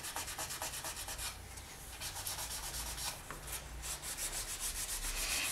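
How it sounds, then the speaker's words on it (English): Quick back-and-forth sanding strokes on polymer clay rasp in a steady rhythm close up, briefly slowing in the middle before resuming. "sand like this to kill off most of it"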